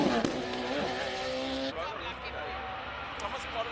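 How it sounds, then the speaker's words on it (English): At the Simola hillclimb, a high-performance race car, a rare single-seater, races past with a loud, rising engine scream that falls away, with a brief tyre screech and someone speaking over it. "getting to be so close to such high performance cars, such high performance rare single seaters, and feeling the noise of the engine through your stomach"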